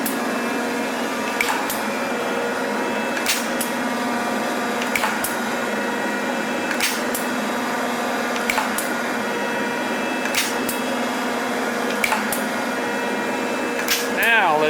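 A Rockford metal shaper machine runs steadily with a constant mechanical hum and regular clicking strokes about every second and a half, close and fairly loud throughout, with no talking.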